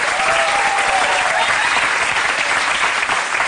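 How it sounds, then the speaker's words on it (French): A television studio audience applauds during a Moroccan interview, a loud, dense and steady wash of many hands clapping that continues evenly for several seconds, with no talking. "on applaudit Massari."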